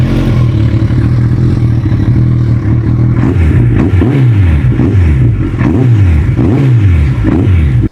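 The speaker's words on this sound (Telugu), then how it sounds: "దీని ఎగ్జాస్ట్ నోట్ వింటే క్రేజీ అయిపోవాల్సిందే." A Kawasaki ZX-14R with a dual-sided full-system Brocks exhaust revs hard and close, its loud engine note rising and falling in repeated sweeps over a steady idle.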